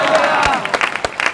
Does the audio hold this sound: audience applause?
yes